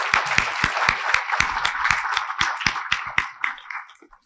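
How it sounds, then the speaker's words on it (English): An audience at an American Indian writers award ceremony applauds a musical composition with steady clapping. A few sharp, close hand claps stand out over the crowd, and the applause tapers off toward the end. "Let's give Des another round of applause for that beautiful composition."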